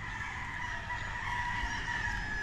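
Roosters and fowl at a game farm, a steady chorus of crowing and clucking mixed with low background rumble, continuous throughout with no talking.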